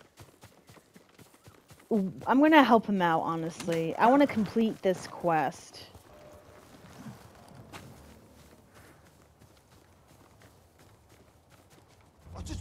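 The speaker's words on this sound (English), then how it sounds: "Let me get my horse." Horse hooves clip-clop at a walking pace in the video game Ghost of Tsushima, faint under a person talking at first, then continuing softly alone.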